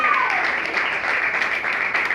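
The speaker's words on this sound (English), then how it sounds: "A round of applause." Applause from the crowd at a college open mic night: a steady patter of clapping from a modest group, with a faint voice or cheer near the start.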